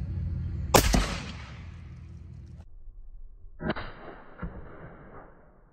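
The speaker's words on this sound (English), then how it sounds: "So here's the CheyTac shooting." A CheyTac M200 Intervention sniper rifle fires two loud, sharp shots a few seconds apart, each crack trailing off in a long, ringing echo.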